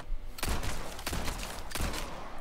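Three sharp gunshots from Resident Evil 4 Remake: Separate Ways at roughly even intervals, each a loud crack with a short tail, over a low background hum.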